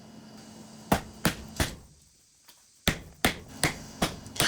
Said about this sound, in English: Getting these clips seated tight takes a little finesse and a few good whacks with a dead blow.